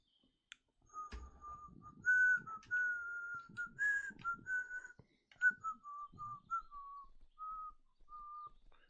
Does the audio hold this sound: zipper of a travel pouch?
no